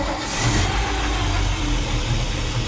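A boat motor runs steadily at a moderate pitch after its heat exchanger has been swapped, a close, loud, continuous engine drone with no talking.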